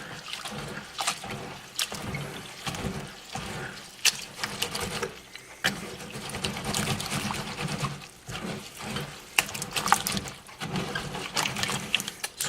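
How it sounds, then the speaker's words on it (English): Seeds for fodder swished by hand in water inside a wire colander, giving irregular sloshing and splashing with sharp metallic rattles and clicks, close and fairly loud throughout. "what I'd usually do is then I just swish it around"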